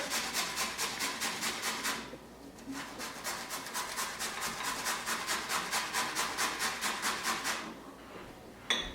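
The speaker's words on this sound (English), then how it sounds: "So you want to grate your potato to extract the juice. I love using the tiniest side of the grater." Potato rubbed rapidly back and forth over the finest side of a hand grater, a steady close rasping scrape in regular strokes with a brief pause partway through.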